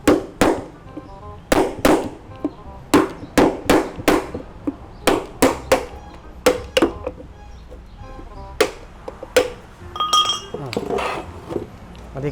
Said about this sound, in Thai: ตอกลงไปเลยนะครับ